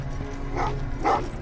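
Two short dog barks, a little apart, in the video game Terminator Resistance, sounding mid-distance over a low background hum.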